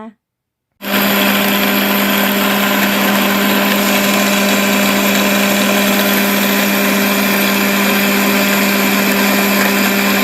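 A kitchen blender runs on pumpkin after a brief quiet start, settling into a loud, steady, constant motor whine with an even droning hum and no pauses.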